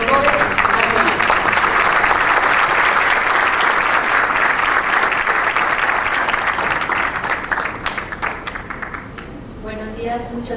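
Loud, sustained audience applause welcomes an actuary to the stage at an AMASFAC conference, dense clapping filling the room before tapering off near the end as a voice begins.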